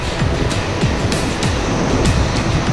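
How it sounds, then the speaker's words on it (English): Whitewater on the Upper Magnetawan River rushes in a loud, continuous roar as a canoe runs through pushy standing waves, with rhythmic splashing surges, close up and with no talk. "Just some nice pushy standing waves."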